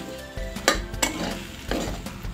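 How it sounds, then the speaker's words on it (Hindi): Potatoes fry in about two spoonfuls of oil, a soft sizzle under a few loud scraping stirs of a spoon across the pan; brief, with no talking. "ये जो हमने इसे 2 चम्मच तेल में आलू को फ्राई कर रही हूँ"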